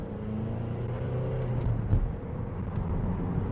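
Opel Vectra C 2.2 DTI sedan accelerating up to 70, heard from inside as a steady, loud engine drone and road rumble with a brief swell near the middle.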